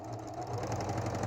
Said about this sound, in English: All right, so I'm just being careful and sewing.